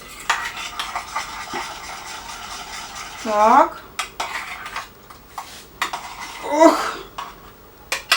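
A spoon stirs and scrapes through chocolate cake batter in a bowl with irregular clinks and scrapes. A voice speaks briefly between the stirring sounds.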